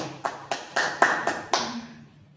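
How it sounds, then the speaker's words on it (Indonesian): Audience applause at an educators' talk session, heard as about seven sharp claps spaced roughly evenly and then fading out, close and moderately loud. "Tepuk tangan untuk Bu Yudi"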